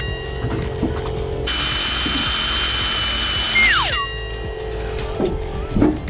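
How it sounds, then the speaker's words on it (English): A power drill drives a self-tapping screw into a helical pile while a deck ledger board is fastened. The motor whines loudly for a few seconds, winds down with a falling pitch, and light clicks and knocks follow. "just set them with a self-tapping screw. A little bit of pre-drilling."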